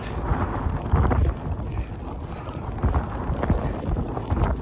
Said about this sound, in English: The wind might just be making it worse